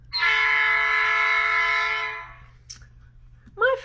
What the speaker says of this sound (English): The big train rolls down the tracks.